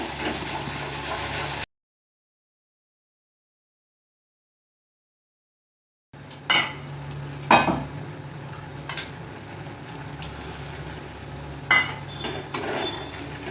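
Masala with Kashmiri chili powder and coriander powder being stirred and sautéed in a pan: a brief sizzle, a stretch of total silence, then a steady fry with scattered scraping and clinking spoon strokes.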